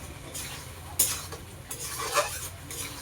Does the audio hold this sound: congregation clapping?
no